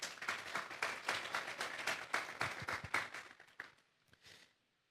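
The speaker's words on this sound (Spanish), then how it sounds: "Vamos a darle un fuerte aplauso pues al Señor." A congregation applauds the Lord during a church service, dense and fairly distant clapping that holds steady for about four seconds, then thins out and fades to silence.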